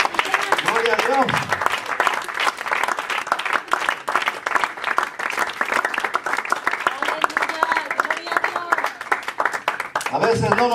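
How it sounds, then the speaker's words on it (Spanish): A church congregation applauds during a Spanish-language sermon, with lively clapping and a few voices calling out over it, fading near the end. "¿No le quiere dar el aplauso?"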